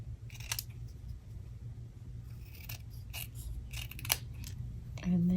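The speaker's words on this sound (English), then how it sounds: "these little things, I just cut with scissors" Scissors snip paper trim for a handmade winter gnome greeting card, several quiet close crisp cuts at irregular intervals over a faint background.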